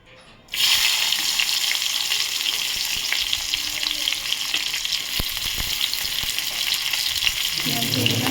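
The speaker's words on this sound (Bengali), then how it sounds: "পেঁয়াজ দিয়ে দিলাম, পেঁয়াজটা ভেজে ফিরছি" Onions fry in a hot pan for sutki mach, a loud steady sizzle that bursts in abruptly and crackles continuously, with a few stirring clicks and no talking.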